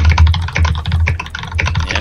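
Fast typing on a computer keyboard, a loud, close, rapid clatter of keystrokes with heavy thumping strokes, continuous and alone.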